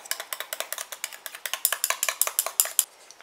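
A utensil stirs a homemade anti-aging, anti-spot cosmetic cream mixture in a small container, giving a quick steady series of light clicking scrapes, close and alone, stopping abruptly near the end.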